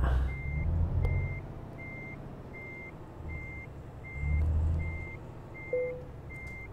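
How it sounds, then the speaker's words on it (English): A truck reverses to park its trailer in Euro Truck Simulator 2, a regular reversing beep repeating over a low engine drone that swells and fades as the throttle changes, with a short hiss near the end. "let's park the trailer."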